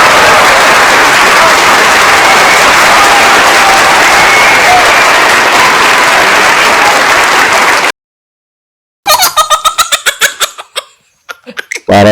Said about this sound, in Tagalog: yung palakpak na yun, para po yan sa bagong halal na Senate President.